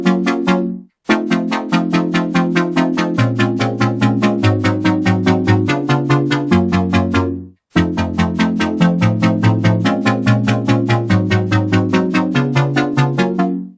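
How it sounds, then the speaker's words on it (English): A plucky, piano-like synth melody made in FL Studio plays alone in quick repeated notes, loud and steady, pausing briefly twice before resuming the pattern. "And so the synth sounds like this."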